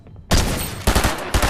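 Pistol fire in a video game, several sharp, loud shots in quick succession, close and alone.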